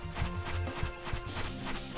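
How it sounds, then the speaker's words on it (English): Horse hooves clip-clop steadily in Star Ocean: Till the End of Time, a rapid, close, fairly loud clatter of footfalls under game music. "You'll see this guy here on his horse."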